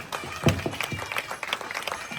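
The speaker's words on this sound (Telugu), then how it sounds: "ఒక్కసారి గట్టిగా చప్పట్లు కొట్టాలండి" Soft, dense applause from an audience patters steadily throughout at a moderate distance, with some voices mixed in.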